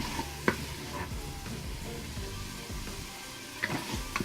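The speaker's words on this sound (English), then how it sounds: "So we got the chicken cooking off here, searing away." Chicken searing inside a Power Pressure Cooker XL, a steady close hiss and crackle of frying with a few soft stirring knocks, no voices.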